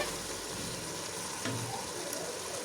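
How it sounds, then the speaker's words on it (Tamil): Food sautéing in a pan for prawn biryani, a soft, steady sizzle with faint stirring, fairly quiet and unbroken, with no voices. "இப்போ வதங்கி கொண்டிருக்குது"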